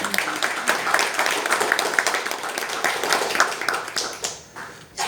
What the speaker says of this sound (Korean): 다시 한번 큰 박수 보내주시고요